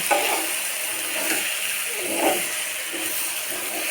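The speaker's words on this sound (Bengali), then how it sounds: "তেজপাতাগুলো হলদি দিয়ে দিলাম তেজপাতাগুলো দিলে কিন্তু বেশ খাই এখন আমাদেরকে নেড়ে ঝোল দিবে" Tengra fish curry with bay leaves and turmeric being stirred in a pan, giving a steady close sizzle and hiss with soft scraping strokes of the spoon recurring every second or so, no voices.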